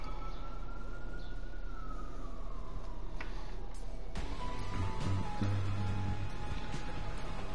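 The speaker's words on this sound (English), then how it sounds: "There wouldn't be a stream without sirens." Emergency vehicle sirens wail faintly in the background of a Binding of Isaac Repentance gameplay stream. The rising and falling tones sound distant and quiet, with steady background noise and no talk.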